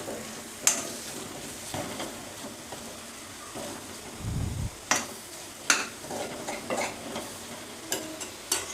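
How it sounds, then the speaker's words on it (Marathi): Masala for drumstick curry stirred in a pan, faint sizzling with intermittent scraping clicks of a spoon against the metal, one low thud in the middle, close and without talk. "ह्याला 2 ते 3 मिनिटे थोडं हलवत राहा."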